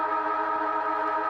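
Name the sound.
football ground siren ending the half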